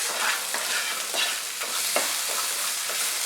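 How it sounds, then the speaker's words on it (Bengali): Chopped tomato frying in a pan on medium heat for a tawa pizza topping, a steady close sizzle with repeated scraping stir strokes, no voices. "আরো 1 মিনিট এটাকে ফ্রাই করে নেব।"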